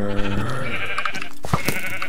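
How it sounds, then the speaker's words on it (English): Sheep in the video game Minecraft give a couple of wavering bleats, loud and close, one straight after the other. "So many sheep here."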